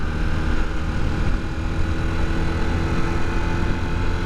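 A Honda CB250 Super Dream motorcycle engine at full throttle in sixth gear, climbing uphill at around 30 mph, drones in a steady, loud, continuous roar with rumbling low end and wind noise, with no talk.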